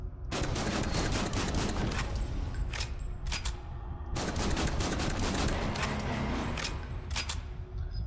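Pistol gunfire in the video game Killing Room Madhouse: rapid repeated shots in quick bursts with brief pauses, loud and dense over a busy game background.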